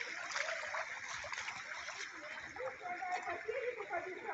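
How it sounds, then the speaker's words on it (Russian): A small river near a Sochi hydrogen-sulphide spring flows with a steady, close babbling and splashing rush that continues throughout. "Дальше речка."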